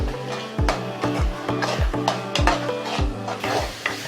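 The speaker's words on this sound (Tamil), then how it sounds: "எண்ணெய் பிரிஞ்சு வரும் அந்த அளவுக்கு வதக்கணும்" A thick tomato, onion and coriander paste is stirred and sautéed in a pan for a spicy chicken fry, with a rhythmic scrape of the spoon about every half second over a steady close sizzle.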